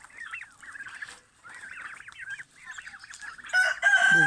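Warbling bird calls and clucking of farmyard poultry give way to a loud, close rooster crow near the end.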